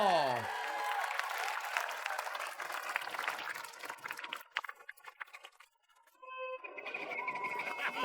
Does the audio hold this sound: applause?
yes